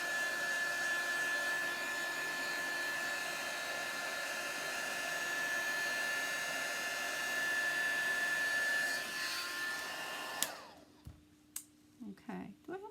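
A hair dryer blowing to dry wet paint on a white chalkboard gives a steady, close whirring hum for about ten seconds, then switches off, leaving a quiet room with a few small knocks.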